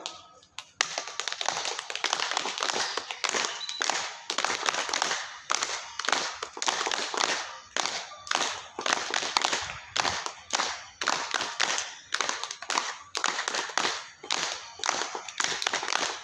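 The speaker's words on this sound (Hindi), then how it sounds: "अभी हम बजाएंगे जोर से ताली, इससे हमारा सर्कुलेशन इंप्रूव होगा" A group at an outdoor yoga camp in Niwaru, Jaipur claps hands loudly and continuously in fast, dense bursts with brief pauses, the sharp claps close and forceful throughout.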